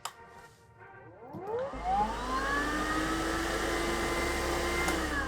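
A HYLA vacuum cleaner powers up with a rising whine that climbs in pitch, then settles into a steady, loud, continuous hum with high tonal overtones, running alone without talk.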